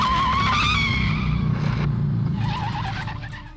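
A motorcycle crash skid from the film Lawrence of Arabia, a loud, close tyre screech with engine roar that slides and wavers for a few seconds before easing off.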